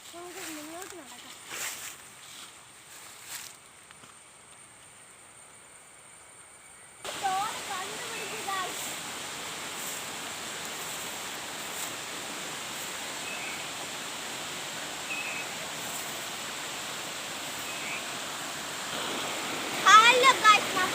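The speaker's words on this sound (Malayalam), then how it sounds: "ഇവിടെ ഒരു വെള്ളച്ചാട്ടത്തിന്റെ ഒരു ശബ്ദം കേൾക്കുന്നുണ്ട്." A waterfall in a forest stream gives a steady, full rushing roar that sets in partway through and continues to the end, after a quieter opening where a voice is heard briefly.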